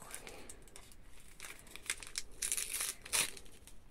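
Wrapping paper on a December 11 advent calendar gift crinkles and tears in bursts of rustling, growing louder toward the end.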